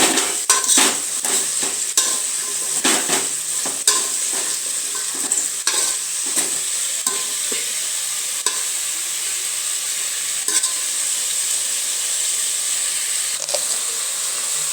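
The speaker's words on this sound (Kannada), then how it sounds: "ಬದನೆಕಾಯನ್ನು ಸ್ವಲ್ಪ ಹೀಗೆ ತಿರುಗಿಸಿ ಫ್ರೈ ಆಗೋವರೆಗೂ ಒಂಚೂರು" Cut brinjal frying in a pan for a North Karnataka style gojju, a steady sizzle and hiss with frequent spoon scrapes and clinks, busier at the start and easing later.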